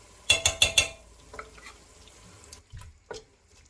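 A spoon stirs tomato paste into a lasagne sauce in a pot, making four quick wet scrapes in a row, then a few softer scattered stirs, close and alone.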